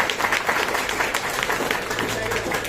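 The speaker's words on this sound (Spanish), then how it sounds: "Un aplauso para Wilson, por favor." An audience applauds to welcome a speaker at a lecture on press law, with steady, dense clapping that stays fairly even across the whole stretch and some crowd murmur underneath.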